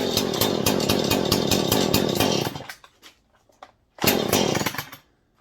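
A Husqvarna 440 chainsaw engine runs loud and close in a fast, buzzing pulse, then drops off and sputters briefly before surging again and dying away.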